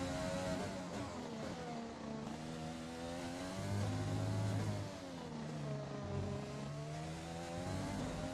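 F1 car engine in the F1 2020 game on the Russian circuit, a high-pitched engine note rising and falling through gear changes, steady and close, no talk.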